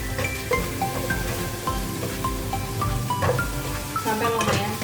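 Bay leaves and lemongrass stalks sautéing in a pan for chicken soto, a steady low sizzle with scattered light clinks of a utensil against the pan throughout.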